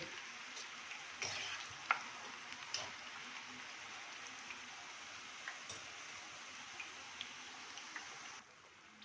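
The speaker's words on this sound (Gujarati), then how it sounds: "બદામી રંગ થાય ત્યાં સુધી આપણે તળી લઈએ." Wheat flour snacks deep-frying in hot oil give a steady, close sizzle with occasional sharper pops and crackles, running unbroken for most of the time before easing slightly at the very end.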